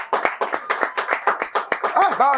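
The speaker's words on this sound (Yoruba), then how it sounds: "Ẹ jẹ́ bá ń pàtẹ́wọ́ fún bàbá mi" Steady, rhythmic applause rises from an audience greeting guest Baba Yinka Quadri on the Yoruba TV show Masoyinbo. A voice cuts in near the end.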